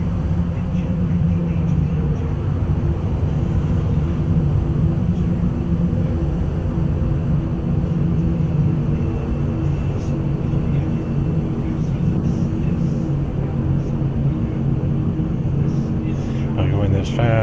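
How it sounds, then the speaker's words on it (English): Spacecraft afterburners in the Star Citizen video game, a loud continuous low roar and rumble heading toward a planet's surface, steady throughout with a rising whine near the end. "Hit the afterburners."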